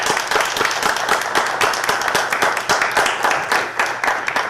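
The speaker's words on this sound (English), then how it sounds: "Round of applause." Dense, steady applause from an audience at a National Honor Society induction ceremony, many hands clapping loudly and continuously without a break.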